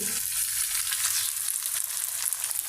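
Onions browned in a pan with cumin paste and ginger-garlic paste added fry with a steady, close hiss and crackle.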